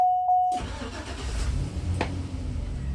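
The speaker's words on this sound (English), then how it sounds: "I'm going to do a safe start by keeping my foot on the service brake while starting the vehicle" A school bus engine cranks and catches after a short tone, settling into a low rumbling idle that continues steadily, close by with no speech.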